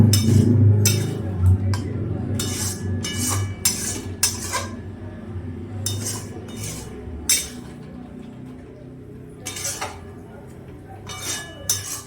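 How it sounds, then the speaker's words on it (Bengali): Pointed gourd stir-fried with spices in a pan, a metal spatula scraping and clinking against the pan in irregular bursts over a low sizzling hum. "মশলার সাথে পটলগুলো আমি কষিয়ে নিচ্ছি।"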